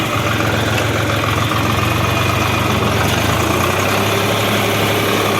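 A 40-horsepower tractor engine idles steadily nearby, a low, even rumble with a faint rhythmic knock throughout.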